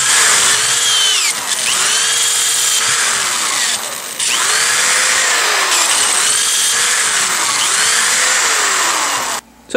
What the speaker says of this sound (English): you need to go ahead and drill all the way throughout the other side too